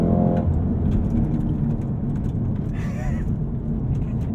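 A Cadillac CT5-V Blackwing launching from a standstill with rear wheels struggling for grip, its engine a loud, sustained low roar heard close from inside the car, with brief higher tones partway through.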